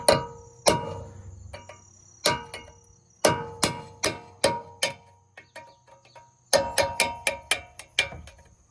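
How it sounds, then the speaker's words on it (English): A hammer drives a punch to notch a screw on a front brake hub of a 2019–2024 Chevy Silverado, GMC Sierra or Tahoe, giving sharp metallic strikes that ring briefly in irregular bursts of two to five blows, close and loud. "I'll take a punch like this. I'll make a divot, a notch, and then I will use that notch to go ahead and break this loose."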